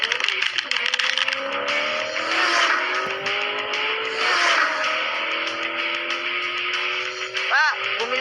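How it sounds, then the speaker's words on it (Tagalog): A car in a racing video game speeds up, its engine whine climbing steadily in pitch over a rough rushing road and tire noise, loud and continuous, with a short chirp near the end. "Bumilis yung kotse niya."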